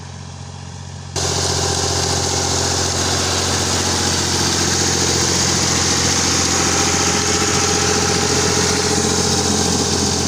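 A Ghazi tractor engine working a rotavator roars to life after a second of quiet, then holds a loud, steady, vibrating drone throughout; one short word is spoken.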